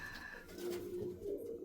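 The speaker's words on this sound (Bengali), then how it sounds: "এই দেখুন, এইটাও আমার খুব পছন্দের একটা নর পায়রা।" Pigeons in a loft coo softly in a low, rolling call, faint and close with quiet background.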